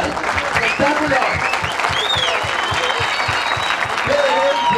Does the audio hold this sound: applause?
yes